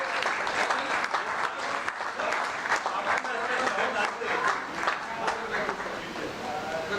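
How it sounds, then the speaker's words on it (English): An audience at a peace award ceremony applauds the recipients, with sustained dense clapping filling the hall and a voice or two faintly audible under it. "Can we have a huge round of applause for all of them?"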